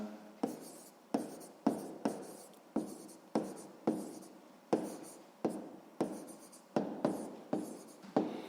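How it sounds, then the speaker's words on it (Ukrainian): Pen handwriting on paper while writing out the answer to a sixth-grade maths exercise, a steady run of about fifteen short scratchy strokes, close and clear with no talking. "Ну що ж, записуємо тоді відповідь."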